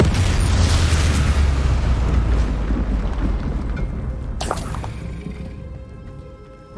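The Avada Kedavra spell in Hogwarts Legacy hits with a loud, rumbling boom that churns for several seconds and slowly fades, with a short bright crackle near the end.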